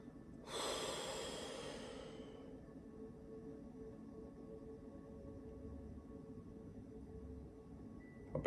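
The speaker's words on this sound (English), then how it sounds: "Take a deep breath." A single deep breath, a soft close inhalation rising quickly and fading over about two seconds, followed by quiet near-silence.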